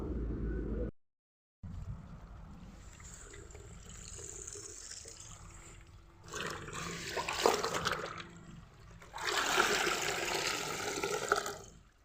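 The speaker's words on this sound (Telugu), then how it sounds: "ఇవైతే ఒక ఐదు నిమిషాలు అలా ఉంచేసి జాడించేస్తాను నేను" Water sloshes and splashes in bursts as clothes soaked in shampoo water are swished and rinsed, with quieter dripping stretches between louder churning moments.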